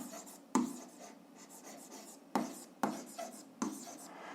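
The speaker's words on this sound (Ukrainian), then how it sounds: "Записуємо, що це в нас система." A system of equations is written out by hand, with soft, scratchy pen or chalk strokes broken by several sharp taps, all close and fairly quiet.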